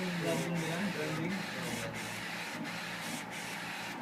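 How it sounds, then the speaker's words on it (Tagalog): An Epson printer with a DX5 head runs with a steady whirring hum and a regular, rhythmic swish as the head sweeps back and forth, while people talk nearby. "Pero Epson printer rin lang ito."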